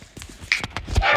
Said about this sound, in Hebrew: זה הכלב שלי נובח